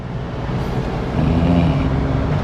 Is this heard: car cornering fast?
yes